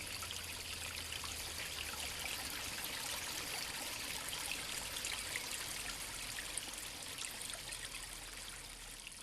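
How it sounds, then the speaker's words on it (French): Water runs in a thin trickle along the Nesque river, giving a steady, soft, close hiss and babble that stays even throughout with no voices. "elle qui n'a souvent qu'un mince filet d'eau à proposer"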